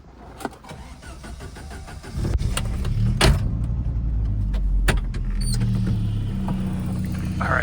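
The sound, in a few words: Saab 900 classic car engine starting up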